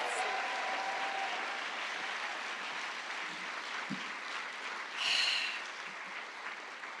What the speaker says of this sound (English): one more round of applause for all of our fantastic finalists